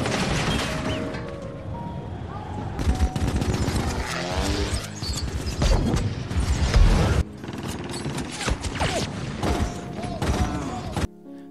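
Chaotic bursts of rapid gunfire and mechanical clatter from a Japanese fighter plane attack on an aircraft in the film Unbroken, loud and sustained, with crashing impacts and a dense battle-like din.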